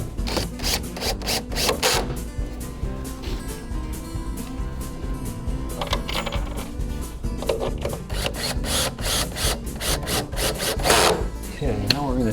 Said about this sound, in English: I want to grind that through the wood.